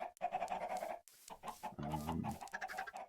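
Video game chickens cluck in short bursts, several calls in close succession with brief pauses between them, near and clear with no talking.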